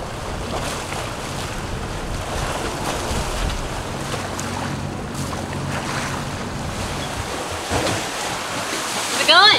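A sailboat under sail with engines off, heading toward the Berry Islands on a long night passage: steady wind rush and sloshing waves against the hull, continuous and fairly close, with a brief rustle near the end.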